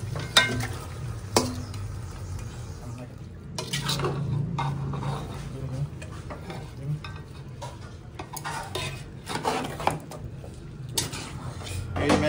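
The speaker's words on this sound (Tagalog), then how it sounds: "Nailagay na yung chicken kabsat dun sa ginisa nilang mga spices na may kamatis." Chicken fries in sautéed spices and tomatoes for biryani. A steady close sizzle carries on throughout, with a utensil stirring and scraping the pan and occasional sharp clinks of metal.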